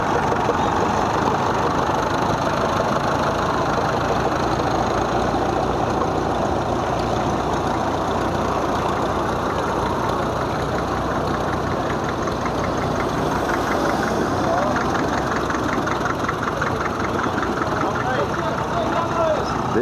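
Old farm tractors in a convoy of more than 300 idle and chug together near a residential intersection in Kamerik, Netherlands, a steady, dense rumble of low diesel engine knocking at a constant level throughout.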